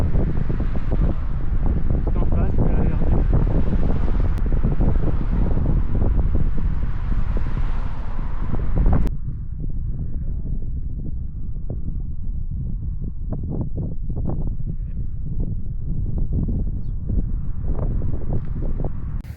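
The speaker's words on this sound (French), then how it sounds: "Il fait frais, il y a du vent." Steady outdoor wind roaring across a microphone on a cool, damp morning in Denmark along a road trip from Hamburg toward the Nordkapp, loud and continuous, easing somewhat after a sudden drop midway.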